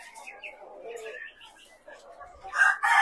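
Roosters crow loudly and close in a poultry pen holding giant free-range chickens, several crows overlapping with softer bird calls in between.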